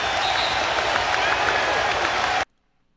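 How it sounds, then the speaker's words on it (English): A stadium crowd at a sports game, on its feet after a cheerleader's play, bursts into loud, dense applause and cheering that holds steady, then cuts off abruptly to silence. "the best part is the crowd reaction"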